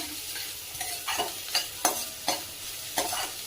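Chopped onion sautéing in a pan for dhaba-style dal tadka, stirred with a spatula: a steady sizzle of frying with sharp scraping strokes about every half second, close and moderately loud, no voices.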